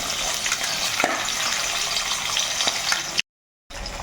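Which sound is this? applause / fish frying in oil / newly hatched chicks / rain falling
fish frying in oil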